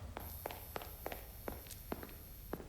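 A monster's soft, steady footsteps in the horror game Forgotten Memories, about eight paced steps over a faint high whine and low hum.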